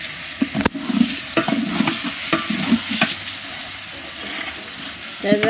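A large wooden paddle stirs pulao rice in a pot with steady scraping and sizzling, loud and close, with several sharper knocks of wood against the vessel and no talk.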